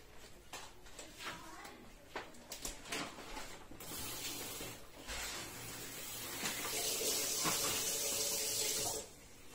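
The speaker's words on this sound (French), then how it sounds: "Ensuite, on va rajouter, comme je vous ai dit, l'eau à l'intérieur." Water poured into a chicken tagine over its marinade, a steady close splashing flow that swells louder partway through and stops abruptly near the end, with no talk over it.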